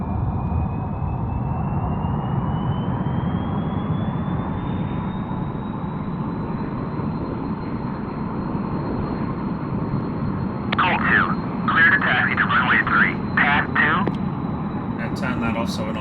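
Airliner taxiing out in a flight simulator game, with a steady broad engine drone and hum throughout, joined near the end by short bursts of a higher-pitched sound.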